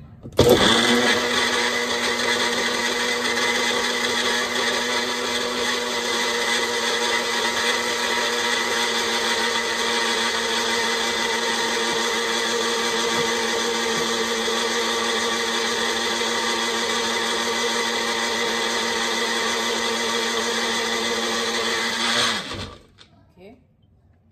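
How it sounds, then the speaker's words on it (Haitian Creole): A blender whirs steadily for over twenty seconds, blending a homemade remedy mixture for flu and fever with rum, a loud constant motor drone that stops abruptly near the end. "Je vais blender comme ça."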